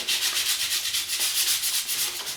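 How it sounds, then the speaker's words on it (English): Thrift store items being lightly sanded by hand with 220-grit sandpaper, a close, steady rhythmic scratching of quick back-and-forth strokes with no voices. "I just got 220 sandpaper, and I'm lightly gonna sand them and give them a little bit of distress"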